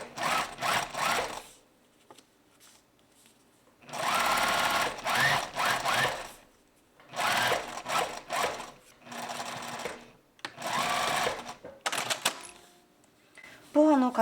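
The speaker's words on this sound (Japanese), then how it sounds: "ボアの肩線を縫います。" A sewing machine stitches the shoulder seam of boa fleece in about five separate bursts of rapid mechanical whirring, each lasting a second or two, with quiet pauses between them.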